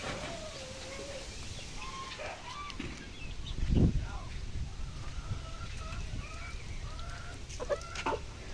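Chickens cluck in short, scattered calls over a steady background hiss, some calls rising and falling, fairly close.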